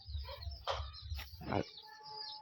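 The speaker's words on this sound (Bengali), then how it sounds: "এই কালো মুরগিটির কথা বলছিলাম, এখন এখানে খাচ্ছে" A black hen clucks a few short times while pecking at her food, close and fairly soft over a low background murmur.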